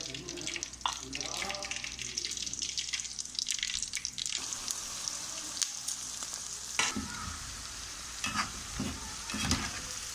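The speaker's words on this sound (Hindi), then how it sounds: "और बाकी भी हम इसी तरह फ्राई कर लेंगे।" Okra (bhindi) frying in oil in a pan, a loud continuous sizzle with stirring and clattering close by, and someone talking briefly over it.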